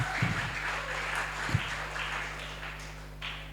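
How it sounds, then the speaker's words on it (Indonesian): An audience at a church sermon claps together, a fairly quiet, even patter of applause over a low steady hum, with a couple of soft thumps near the start. "tepuk tangan lu semuanya"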